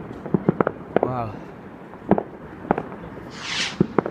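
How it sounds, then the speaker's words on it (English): Bonfire night fireworks going off nearby: a string of sharp bangs and cracks at irregular intervals, one whistling rocket and a fizzing burst, with people talking and exclaiming between them. "Those fireworks are dangerous, Tony."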